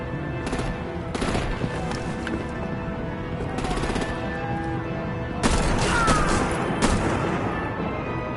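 Rapid, sustained artillery gunfire rattles in a Batman video game, dense bursts of shots over a constant loud backdrop of combat noise, growing heavier near the end, with voices mixed in.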